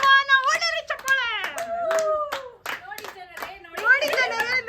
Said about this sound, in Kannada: ಎಲ್ಲರೂ ಕ್ಲಾಪ್ಸ್ ಹೊಡೀರಿ, ಕ್ಲಾಪ್ಸ್ ಹೊಡೀರಿ